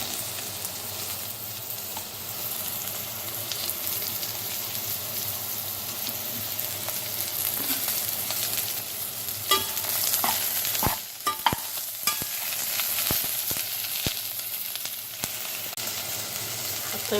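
Potatoes and carrots frying with onion for a chicken curry, a continuous loud sizzle of hot oil with occasional spoon scrapes and clinks against the pot, close and steady throughout.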